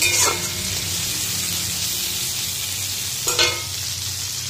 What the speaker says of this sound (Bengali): এখানে দেখো চিংড়ি মাছগুলো এখন ভেজে নিচ্ছি।